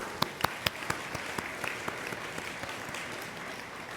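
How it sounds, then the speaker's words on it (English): Audience applause at an academic conference opening, a brief burst of many hands clapping with a few sharp near claps standing out over the steady patter before it fades. "let's give them a round of applause, please"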